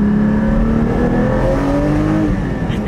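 Porsche 718 GT4 fitted with a new titanium exhaust, a loud deep engine drone with rising and falling rev tones, heard steadily from inside the car.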